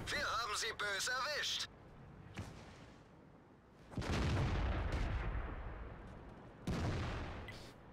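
Artillery in the World of Tanks game fires and its shell lands, heard as several heavy booming blasts with rumbling tails spread across the moment, after a brief stretch of voice at the start.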